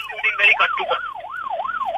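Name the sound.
ambulance siren passing on the road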